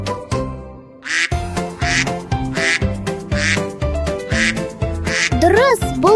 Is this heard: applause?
no